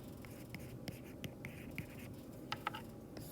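A pen or pencil scratches across paper while working out a physics problem, quiet close strokes and taps in short bursts over a soft steady background, with no talk.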